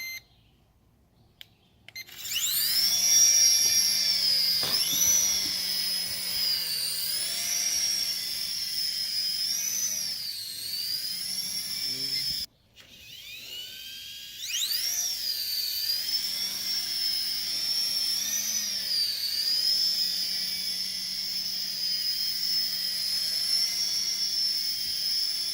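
DeeRC toy RC Apache helicopter starts up with a one-button takeoff: a high, whining rotor and motor buzz that rises and wavers in pitch as it flies, briefly cutting out midway, then resuming.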